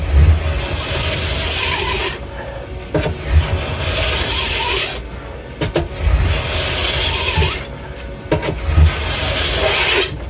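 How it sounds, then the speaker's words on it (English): Edge sharpening with a Crew Sport sharpener, heard as steady rasping strokes in several long passes separated by short pauses, close and fairly loud, with no talk. "couple passes with my Crew Sport sharpener here"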